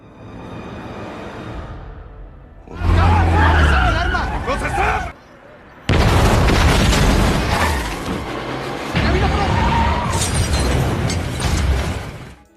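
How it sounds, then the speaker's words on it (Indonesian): In an action film scene, a moving car is blown up: loud, dense roaring blasts and skidding, grinding noise come in long heavy surges, with brief drops in between and a rumbling low end throughout. "Mereka berdua dibantu oleh kedua rekannya dengan diawali dengan meledakkan sebuah mobil"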